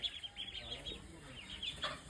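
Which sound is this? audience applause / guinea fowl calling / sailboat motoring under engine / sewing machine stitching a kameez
guinea fowl calling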